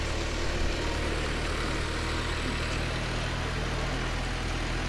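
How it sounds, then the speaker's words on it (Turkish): A tractor pushes and clears snow in an old market street, its engine a steady low chug at moderate distance, fairly quiet and continuous with broadband street noise on top. "Dayım traktörle kare eziyor."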